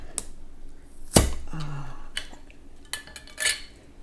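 A glass jar of braised salmon with tomato gets its lid opened. The lid is stuck hard from cooking in hot water. One sharp pop is followed by a few metallic clicks and clinks, close and clear, with no talking.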